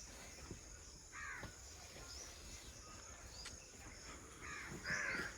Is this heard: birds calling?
yes